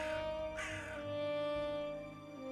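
Crows cawing in a radio drama, a few harsh calls over a sustained musical tone and low background bed, fairly faint.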